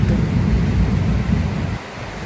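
Steady rain falling around a home, with a low rumbling roar that could be distant thunder or wind, loud and continuous, dropping off slightly near the end; no voices.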